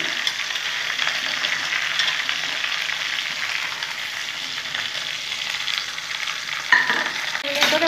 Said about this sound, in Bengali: ভালো করে ভেজে নেব, তাহলে ভালো লাগবে খেতে।